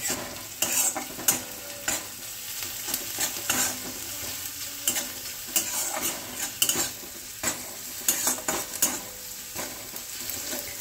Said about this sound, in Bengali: আমার পেঁয়াজটা কিন্তু হালকা হালকা ভাজা হয়ে গেছে।